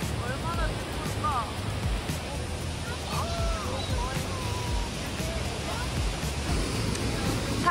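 A waterfall pouring beside rocks makes a steady, close rushing roar that fills the whole stretch, with brief voices heard faintly over the water.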